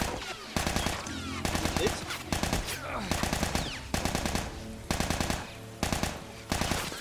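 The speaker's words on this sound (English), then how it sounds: "I'm gonna shoot you in the head." Rapid bursts of automatic gunfire from The Last of Us video game crackle in repeated loud volleys, each string of shots separated by short pauses.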